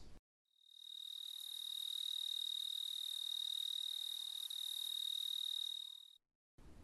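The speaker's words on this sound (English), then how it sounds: "I recognize the distant evocative trill of a four-spotted tree cricket, Oacanthus quadripunctatus." A four-spotted tree cricket (Oecanthus quadripunctatus) gives a steady, unbroken high trill that lasts about six seconds. It is heard alone at a stream restoration site, with nothing else in the background.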